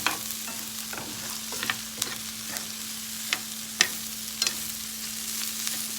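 Rice browning with spices in a pan for Creole chicken and rice, stirred with a utensil: a steady sizzle under a series of sharp scraping clicks at irregular intervals, close and fairly loud.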